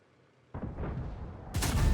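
A tank cannon shot in the World of Tanks video game: a loud broadband blast bursts in after a quiet lead-in, and a second sharper report follows about a second later, both standing alone with no talk.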